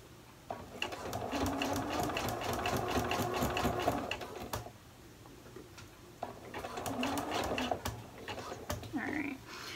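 A sewing machine stitches elastic onto fabric for a crossover front, running in two steady rapid bursts with a short pause between them, close and fairly loud.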